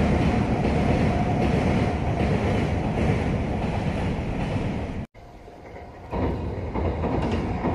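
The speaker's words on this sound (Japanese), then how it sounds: "貨物列車が、また通過していった。" A freight train rumbles past close by near a river in Yamanashi, Japan, loud and continuous, then cuts off abruptly to quieter outdoor ambience with faint rushing.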